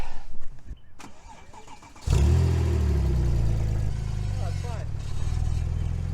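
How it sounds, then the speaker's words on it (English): A Porsche 997 911 Turbo engine cranks and fires up, settling into a loud, steady running drone with a slight rise as the car pulls away close by, after a few seconds of faint handling noises. "I'm actually gonna drive it instead of pushing it because I wanna say I drove my new Porsche."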